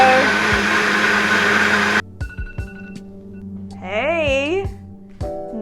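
A blender whirs loudly for about two seconds while blending homemade oat milk, then cuts off abruptly, leaving quieter room noise and brief talking.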